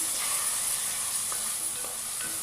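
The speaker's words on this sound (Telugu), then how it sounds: "టమాటో ముక్కలు వేసి చక్కగా వేయించుకోవాలి" Tomato and capsicum pieces frying in a pan for homemade pav bhaji: a close, steady hiss of sizzling oil with faint stirring scrapes and no voices.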